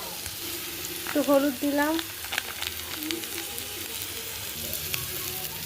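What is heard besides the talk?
onions and green chillies sautéing in a pan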